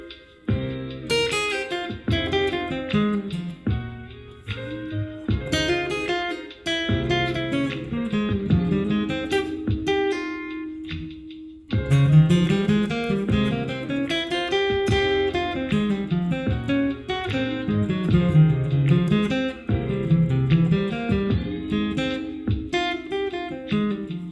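Guitar improvisation that wanders around the scale over a backing, with busy melodic runs of plucked notes above steady chords, loud and continuous, a brief pause near the midpoint before the playing resumes.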